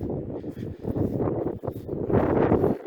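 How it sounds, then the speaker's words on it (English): Strong wind roars and buffets the microphone in continuous, rough gusts, loud and close, with no other clear sounds. "The wind's brutal. You can hear it."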